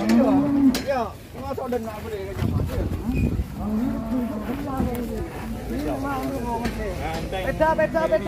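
Banteng cattle from Jember unloading from a truck, with low moos rising now and then beneath loud, continuous chatter and shouts from a crowd of people nearby.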